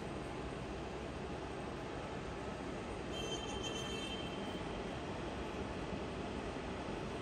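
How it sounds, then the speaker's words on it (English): A MAS VO 50 radial arm drill with its spindle turning at 300 rpm gives a steady, dense broadband mechanical whir at low level, unchanging throughout with a faint tonal shimmer midway. "The spindle speed has been increased to 300 rotations per minute."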